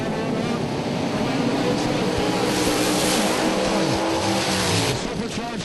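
Supercharged drag racing car making a run at the strip, a loud, continuous roaring engine blast sweeping past at close range for several seconds.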